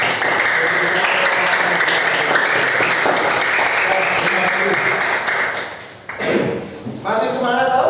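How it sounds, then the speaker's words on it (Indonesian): Classroom of students clapping for a group after a lesson presentation, dense sustained applause that thins out near the end, with a few voices and knocks breaking through afterward. "tepuk tangan untuk kelompok 2"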